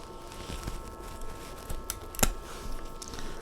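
Hand shears snip through tough branches of a small potted tree, giving a few quiet, scattered clicks and crisp cuts against a faint background hum.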